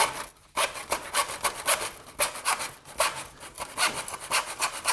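A hand saw cuts wooden base trim held in a miter box, giving rapid rhythmic rasping strokes that run steadily after a brief pause at the start, close and fairly loud with no talking.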